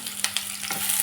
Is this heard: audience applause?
no